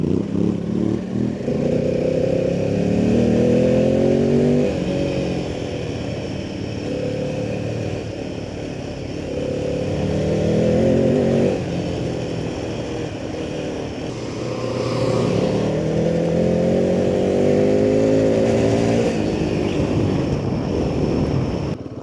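Royal Enfield Himalayan 450 motorcycle ridden in second gear, engine revs rising and falling in several pulls with wind rush, loud and continuous from the rider's position.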